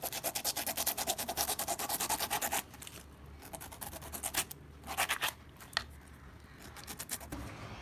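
A knife cutting a pineapple, with steady rasping, scraping strokes in a rapid rhythm at first, then slower, separate cuts and rubs, close and moderately loud.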